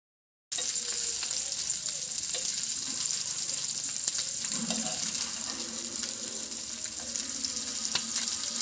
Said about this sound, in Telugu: చేప ముక్కలు ఒకవైపు వేగిన తర్వాత ఇంకో వైపుకు తిప్పుకోవాలి